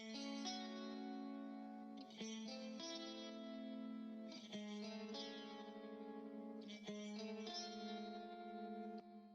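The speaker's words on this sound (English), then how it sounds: "We have some clean chords." Clean electric guitar chords drenched in echo, chorus and reverb, several sustained chords rung out in a slow sequence with shimmering tails, quiet and with no voices over them.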